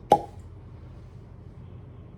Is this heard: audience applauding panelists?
no